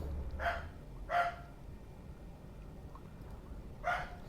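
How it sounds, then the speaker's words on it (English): An excited pet dog barks three times indoors, two sharp barks close together and then a third after a pause, at moderate distance over a steady low background hum. "Let them be slipped outside so that they stop barking."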